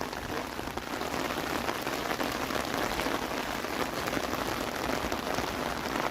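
An April rain shower falls on a Toronto city street between thunderstorms, a steady dense patter and hiss of drops on pavement and puddles, even and fairly loud, with no voices.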